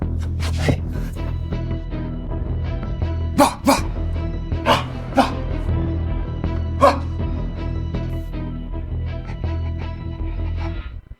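A person imitates a dog, giving a string of irregular barks and yips over a steady low background hum.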